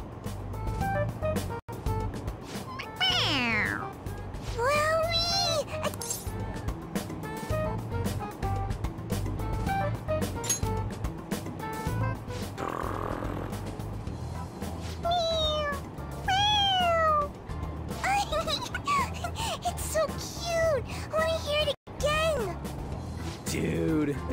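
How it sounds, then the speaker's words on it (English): A toy cat in the Persona 5 Royal video game meows repeatedly when its head is pressed, several clear rising meows over a steady background of game music and ambience, with voices talking at times. "It meows when you press on its head."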